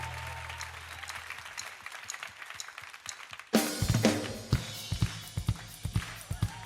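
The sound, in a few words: congregation applauding, clapping hands in church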